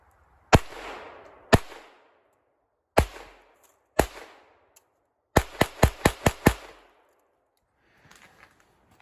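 Sharp .22 rifle shots with Winchester White Box rounds crack out close and loud, several spaced singles then a quick burst of five, with faint movement afterward.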